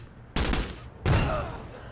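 Two loud, close bursts of gunfire in Door Kickers 2, a tactical shooter game, each a sharp onset followed by a short rattling decay, roughly two thirds of a second apart.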